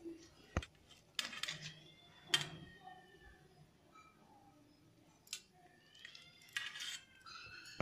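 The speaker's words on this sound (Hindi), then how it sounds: "अभी हम इसको काटते हैं चाकू से" A kitchen knife slices through steamed colocasia leaf rolls for patra, giving a few sharp, close taps and clinks on a board with quiet pauses between cuts.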